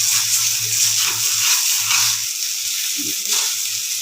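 Potatoes fry in a nonstick pan with a steady, close broadband sizzle that holds throughout, with faint low kitchen hum and small stirring scrapes underneath.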